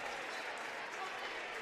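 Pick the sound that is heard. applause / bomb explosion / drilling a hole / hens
applause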